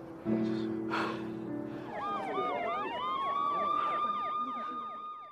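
Ambulance and police sirens arriving, with a steady horn-like tone giving way to several overlapping wailing siren sweeps that rise and fall repeatedly, moderately distant and continuous.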